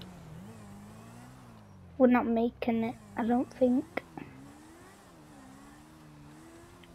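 In GTA, a motorbike engine hums low and steady with slight rises in pitch, running under a short burst of a man's speech.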